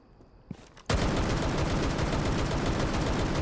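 Sustained rapid gunfire from the 417 DMR in Rainbow Six Siege erupts after a brief quiet moment, a dense continuous burst of shots that stays loud and close to the end.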